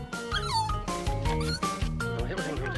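A fluffy stray dog, found and adopted by a royal family, yips and whimpers in short high cries over a rhythmic music track, with no talking.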